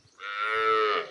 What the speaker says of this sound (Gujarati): આ જો વાસરું રાડ્યું દે તો સામું ઊભું રહેતું જાય.